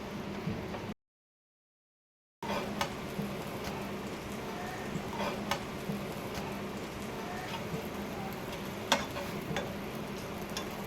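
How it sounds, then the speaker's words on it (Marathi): Pav bread toasting in a pan with masala, a soft steady sizzle with occasional light clicks and scrapes, fairly quiet and close, broken by a short gap of silence near the start. "आता यामध्ये पाव भाजून घेऊया"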